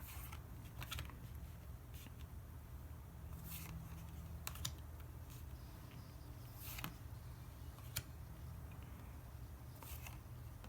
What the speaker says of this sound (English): I'll be quiet while I flip through the cards